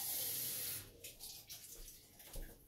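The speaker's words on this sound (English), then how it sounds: "We are going to add a little bit of water in there." Water pours briefly into a homemade jerk seasoning mixture with molasses, a faint hissy splash at first that settles into quieter trickling and soft stirring noises, with no talking.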